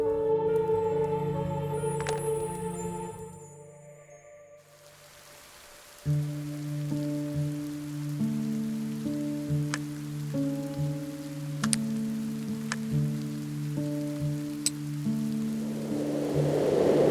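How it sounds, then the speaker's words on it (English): Rain falls in the farm scene of the video game Mystery Detective Adventure. It makes a steady, soft hiss under gentle game music, with a few faint drip-like clicks and no voices. "Has the rain stopped?"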